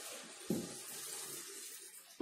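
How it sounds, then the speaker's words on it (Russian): Water poured from a tap or jug into a cooking pan for Asian-style chicken noodles, a soft continuous trickle with a brief splash at the start and a louder gush at the end. "Наливаем чуть-чуть воды."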